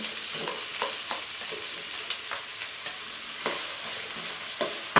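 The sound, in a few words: onions frying in hot oil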